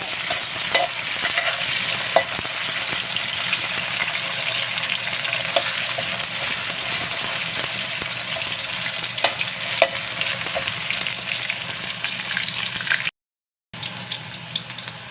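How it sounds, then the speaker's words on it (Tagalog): Menudo spices and aromatics sizzle and fry in a pan, a steady close crackle with occasional stirring clicks that runs throughout, briefly cut out near the end. "Yung mga ricado kasi gusto ko iprito muna ng kaunti."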